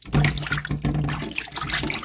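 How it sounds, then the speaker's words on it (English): Raw chicken thighs are rinsed in running water, the tap splashing and gurgling in a steady stream with intermittent sloshing and dripping, close and alone. "So I'm just gonna let this sit in the water for about 5 minutes and then I'll wash it properly."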